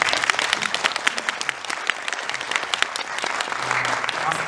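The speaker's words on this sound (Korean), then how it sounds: "큰 박수 부탁드립니다." Loud, dense applause from a theater audience for actor Sol Kyung-gu, many hands clapping rapidly and continuously, with a faint murmur of voices beneath.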